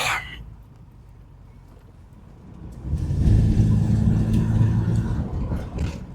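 Vauxhall Royale Coupé engine shifting into second gear, a low engine drone that swells and grows louder partway through, holding a steady revving hum.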